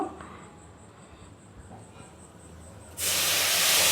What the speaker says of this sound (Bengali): এবার জলটা রাখা ছিল তাতে আমরা আস্তে আস্তে করে দিয়ে দেব।